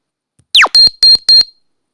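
In the video game Robot Odyssey (DroidQuest), a directional sensor gives a quick descending electronic chirp followed by four sharp, evenly spaced beeps, loud and clean against silence.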